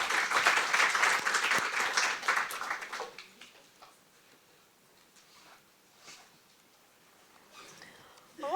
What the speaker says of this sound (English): Applause to them as well.